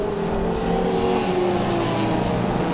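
Toyota MR2 race cars cross the finish line at Rockingham in a 750 Motor Club race, their engines making a loud, continuous roar that swells as they pass, with no talking.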